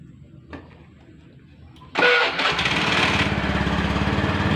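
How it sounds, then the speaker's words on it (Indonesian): A 2014 Honda Beat motorcycle sits quiet with faint background noise, then its engine starts abruptly and settles into a steady, close, buzzing idle. "Mesinnya saya nyalakan dulu."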